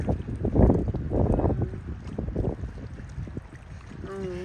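Gusty wind rumbles and buffets the microphone outdoors at Lake Lanier, Georgia, with choppy water, steady and fairly loud, with faint voices underneath.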